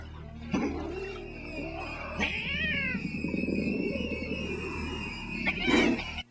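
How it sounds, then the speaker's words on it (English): A cat yowls in drawn-out, wavering caterwauls close by, several rising and falling cries over a steady low hum, with a harsher burst near the end. "Stupid cat."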